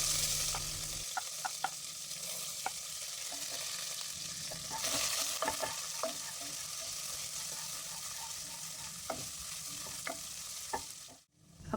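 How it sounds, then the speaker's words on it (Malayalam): Chopped green chilies and onion sautéing in a hot pan, a steady soft sizzle with frequent close scraping and clinking stirring strokes throughout. "ഇനി നമുക്ക് കട്ട് ചെയ്ത പച്ചമുളകും സവാളയും ചേർത്ത് കൊടുത്ത് നന്നായിട്ടൊന്ന് വഴറ്റിയെടുക്കാം"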